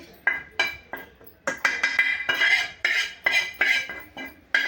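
A spoon scrapes roasted coconut out of a pan onto a plate in about a dozen short, sharp metallic clinks and scrapes, close and fairly loud, with no talk.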